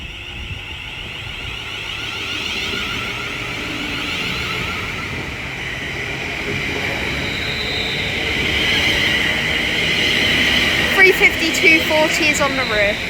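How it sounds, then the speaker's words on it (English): London Northwestern Railway train departing Leighton Buzzard on the West Coast Main Line, a steady rising whine and rumble that grows louder toward the end, with faint clattering near the close. "Now departing is the 1325 London Northwestern Railway service from Birmingham New Street to London"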